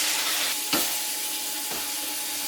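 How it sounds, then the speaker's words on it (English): Beef and snow peas stir fry sizzling steadily in a hot pan as sauce is stirred in, with a couple of brief scraping stirs over the continuous frying hiss. "Stir it in."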